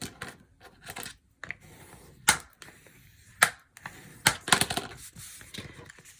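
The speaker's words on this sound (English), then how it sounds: "And I'm going to fold that down." Paper being creased and folded by hand for an Easter and spring craft, with a few sharp crisp snaps and rustles spaced through the clip, close and fairly loud against quiet pauses.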